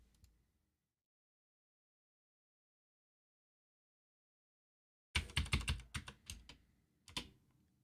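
Typing on a computer keyboard: a quick burst of clattering keystrokes after a long silence, then a short pause and a few more taps, close and clear.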